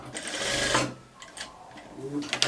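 Sewing machine running a short burst of stitching along a blouse hem, a close whirring hum lasting under a second before stopping, followed by faint handling sounds and someone speaking.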